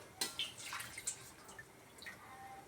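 Water is poured from a bowl into a cooking pot of lentils for bisi bele bath, giving soft close splashes and drips, faint and intermittent with brief bursts.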